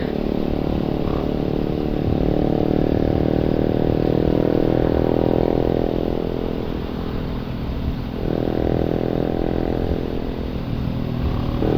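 A group of motorcycles, some with open exhaust pipes and SC Project pipes, rides together on a club ride in Bataan, a continuous loud engine drone with rising and falling revs throughout.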